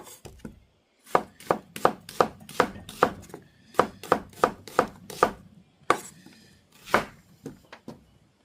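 Knife chopping young summer radish greens (yeolmu) on a small cutting board for kimchi, a run of sharp, evenly spaced thuds in two bursts with short pauses, close and loud, no talking.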